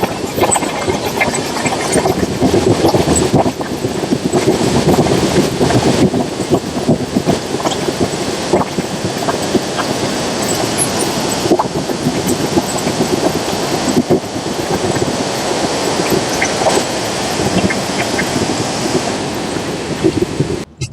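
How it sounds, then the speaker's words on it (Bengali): Express train running the nonstop stretch between Panskura and Kharagpur on the Kolkata to Balasore route, a steady loud rumble of engine and rolling wheels with continuous broadband roar throughout. "পাঁশকুড়া থেকে খড়গপুরের মধ্যে আমাদের ট্রেন কভার করবে 44 কিলোমিটারের ননস্টপ যাত্রাপথ"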